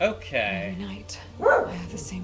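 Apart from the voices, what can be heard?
dog barking at a package delivery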